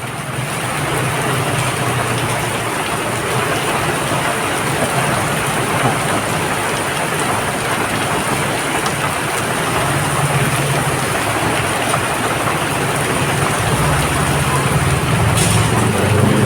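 Heavy rain pours down steadily and loudly in a flood-free town street, a dense unbroken hiss filling the whole span with a faint low rumble beneath.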